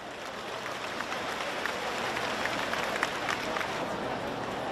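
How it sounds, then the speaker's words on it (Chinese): Dense, continuous audience applause fills the room as a speaker is welcomed to share a testimony at a religious gathering, steady and even for several seconds. "让我们掌声欢迎。"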